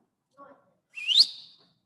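In an anatomy lecture room, a short faint murmur, then a single clear rising whistle from a person, loud and brief, in an otherwise quiet space.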